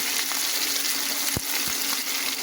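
Chopped onion sizzles and fries in hot oil over toasted cumin in a pan, a steady close crackle with a few sharper pops and no voices.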